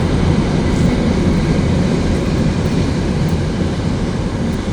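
A steady, loud rumble of a train running past overhead near a riverbank, continuous and broadband with no pauses, no voices over it.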